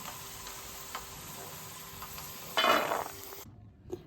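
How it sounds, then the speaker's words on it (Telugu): Peanuts frying in a pan of oil for a mirchi bajji stuffing, a steady soft sizzle with a louder burst of crackling as they are stirred before the sound cuts off. "ఇదే ఆయిల్లో 1 కప్పు పల్లీలు వేపుకుందాము స్టఫింగ్కి."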